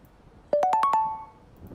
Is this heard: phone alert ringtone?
yes